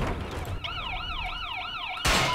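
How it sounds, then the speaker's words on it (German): A police car siren in the Battlefield Hardline video game wails with a rapid, repeating rising-and-falling tone, loud and close over game background noise, before a sudden burst of noise cuts in at the end. "Wir haben jetzt auch eine Sirene."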